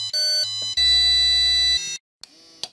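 Buzzer on a Keyestudio KS0576 smart eco-friendly IoT house kit, triggered by the soil humidity sensor at zero moisture, sounds a loud electronic ringtone-like melody of sustained beeping tones, then briefly cuts out before short faint bleeps.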